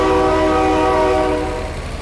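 A loud, sustained train horn blares close at hand in the video game BeamNG Drive, one steady chord that holds and then fades slightly toward the end.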